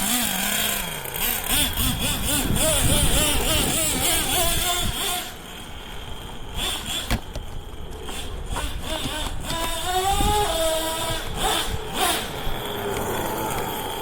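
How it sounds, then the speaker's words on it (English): Traxxas T-Maxx nitro RC truck engine warming up, a buzzy high-revving small two-stroke whine that repeatedly climbs and falls in pitch, cutting out briefly near the middle before revving again, loud and close. "I think the engine's warming up."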